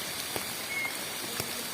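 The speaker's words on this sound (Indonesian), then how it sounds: "Seru nih, hujan-hujan." Steady rain falls on a durian orchard, a dense even hiss of drops with a few sharper patters close by, no talk over it.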